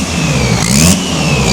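A restored Mercedes AMG engine, abandoned for a year before being revived, revs briefly up close, a loud throaty roar swelling and settling back to a rumbling idle.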